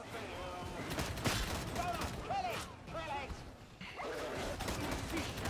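Rapid bursts of heavy automatic gunfire from an enemy gunner in Warhammer 40,000: Darktide, sustained and dense over a busy battle mix, with voices and shouts mixed in.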